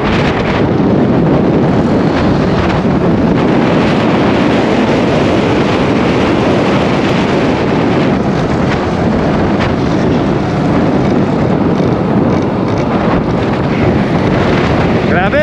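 Strong wind buffeting a microphone at a riverside campsite, a loud continuous rumbling roar with gusty fluctuations that never lets up, masking nearly all other sound.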